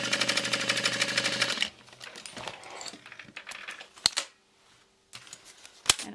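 A sewing machine stitching a bag lining shut runs fast and steady for under two seconds, then stops, leaving fabric rustling and a couple of sharp clicks as the work is handled.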